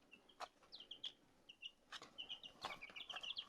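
Seven-day-old Araucana and Cream Legbar chicks cheep in a steady run of high, thin peeps, several birds overlapping close by, with a few soft knocks and rustles underneath.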